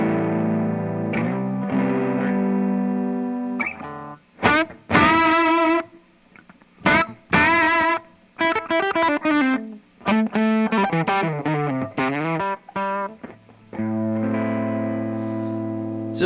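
Electric guitar through a lo-fi, saturated, fuzzy chorus pedal with the saturation knob maxed: sustained chords, then choppy plucked notes and bends with wobbling, distorted warble, played alone and fairly loud.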